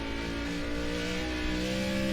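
An ARCA race car in the iRacing game at Oulton Park holds a steady engine drone, loud and constant with a smooth tonal whine and no break.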